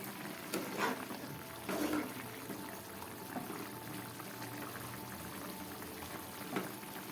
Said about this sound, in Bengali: একদম গ্যাস কম করে আমি মাছের ঝোলটা করলাম।